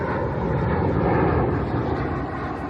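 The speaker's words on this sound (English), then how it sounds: "This plane's moving." A fixed-wing airplane passes overhead, its engine giving a steady, loud broadband roar that swells slightly and then eases as it goes by, with no voices.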